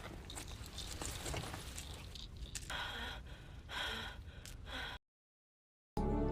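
In a film scene, a woman trapped in a car buried under ice gasps with labored, ragged breathing, repeated sharp intakes of air, before a sudden cut to silence.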